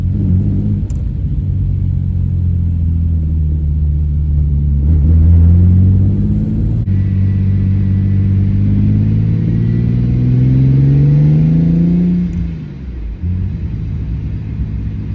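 A BMW E30 with a swapped S38 engine driving, its engine droning loud and steady from inside the car, rising in pitch as it accelerates and then easing off near the end, with no talking.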